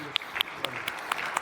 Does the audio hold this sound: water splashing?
no